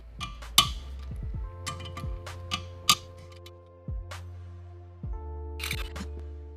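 ARP 2000 main bolts being removed from an engine's main bearing caps during a car engine rebuild: a run of sharp metallic clicks, clinks and taps from tools and bolts, close and irregular with brief pauses, no talk.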